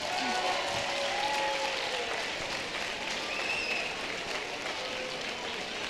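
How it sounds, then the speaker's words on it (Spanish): Crowd applause at the closing ceremony of a FIRST LEGO League robotics event, a steady wash of many hands clapping in a large hall, with scattered cheers and whistles mixed in throughout. "un aplauso para todos ellos"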